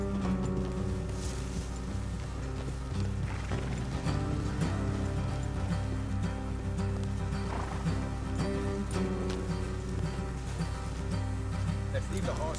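Horses trotting with steady clip-clop hooves and an occasional whinny in Red Dead Redemption 2, layered over a continuous game soundtrack with some speech mixed in.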